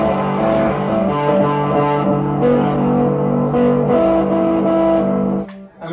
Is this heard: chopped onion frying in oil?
no